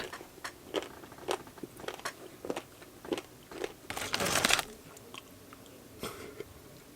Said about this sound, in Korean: 떡볶이 소스에 찍어 듬뿍 먹어봅니다.